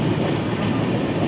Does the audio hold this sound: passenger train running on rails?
yes